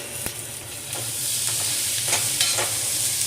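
Chopped capsicum is stirred into sautéed onions in a hot pan, giving a continuous bright sizzle with a few sharp scrapes of the spoon against the pan and no voices.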